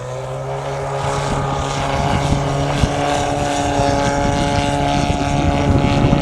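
A model airplane's steady, droning propeller engine hums continuously at a distance at an air show, with a constant tone and light wind noise over the microphone.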